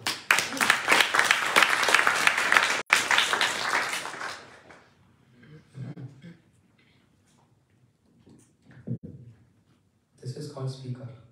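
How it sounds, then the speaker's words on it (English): An audience at an evening program breaks into dense, loud clapping for about four seconds that then dies away, followed by sparse talking in a quieter room. "Clapping for the girl."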